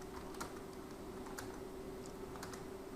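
Quick, light keystrokes on a computer keyboard while entering values, soft irregular clicks over a steady background hum, faint and close.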